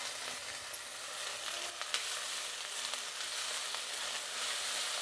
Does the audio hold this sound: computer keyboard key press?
no